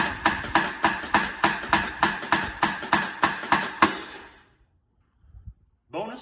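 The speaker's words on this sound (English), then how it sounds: "One of my favorite things to do with the left hand is get a real 2/3, a hemiola going on between the 2 hands" A drum kit plays a two-against-three hemiola between the hands: loud, steady, evenly spaced hits with crisp cymbal wash for about four seconds. Then it cuts to near silence, with a few faint knocks near the end.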